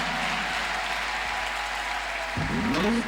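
A church congregation claps and cheers for Jesus during a French-language praise service, dense steady applause filling the space, swelling near the end as a voice rises over it.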